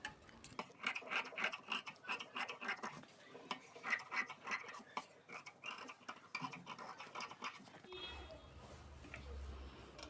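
Scissors cut an extra piece of fabric off a stitched blouse lining, giving close, crisp snips and scraping clicks in an uneven series, ending with a low hum.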